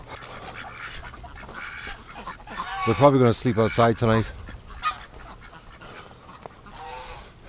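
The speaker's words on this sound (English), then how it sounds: "Good night, ducks." Ducks call outdoors on a mild winter night, a short cluster of loud, close, honking quacks rising in the middle, with someone talking quietly before and after.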